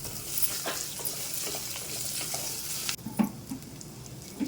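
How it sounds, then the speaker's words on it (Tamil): Steady frying sizzle from spices and curry leaves sautéing in a pan, close and constant, with a few stirring clatters; the hiss drops partway through and then continues more softly. "இதுவும் சேர்த்து நல்லா வதக்கிக்கலாம்"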